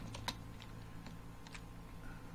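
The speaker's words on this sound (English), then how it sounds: "Someday I'll learn how to type." Keystrokes tapped out on a computer keyboard while modelling a project enclosure lid in OpenSCAD, a few scattered clicks over a steady low hum, faint and unhurried with no talking.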